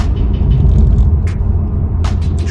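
A Mercedes-AMG GT's engine rumbles deep and loud, a steady low growl close by with a couple of brief sharper bursts near the end.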